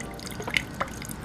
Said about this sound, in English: we're just going to pour this inside of our jar